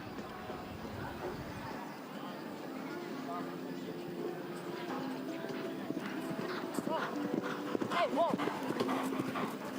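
Horse hooves clip-clop on the arena at a show jumping event at an Easter festival, steady and moderately close beneath continuous commentary and crowd murmur.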